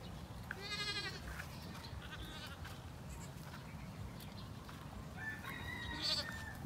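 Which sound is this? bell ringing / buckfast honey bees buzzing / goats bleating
goats bleating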